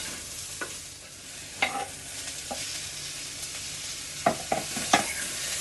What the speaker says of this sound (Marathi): टोमॅटो पण छान परतवून घेऊया.